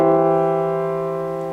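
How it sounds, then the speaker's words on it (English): A voiced triad, several notes sounding together as one sustained chord for ear training, rings steadily and close with no talking, slowly fading over under two seconds. "if I hear a triad that sounds like this"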